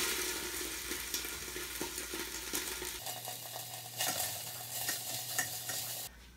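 Mushrooms are stirred into a pan of sizzling ginger garlic paste, with soft scraping and shuffling over a low hiss that drops quieter partway through. No one talks.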